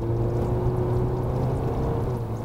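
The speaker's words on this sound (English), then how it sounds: "We can hear just enough of that engine, not too loud, not too like it's working too hard." A 2014 Audi A4 engine hums steadily from inside the cabin as the car accelerates onto a freeway. The tone is smooth and moderate and rises slightly, with road rumble beneath and no talk.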